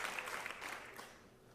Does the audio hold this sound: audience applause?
yes